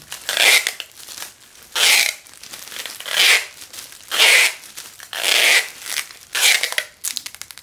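Adhesive packing tape is ripped off the roll and wound around a plastic-wrapped mango graft, giving six loud, rasping tearing bursts at roughly even intervals, each about half a second long, close and with no talking.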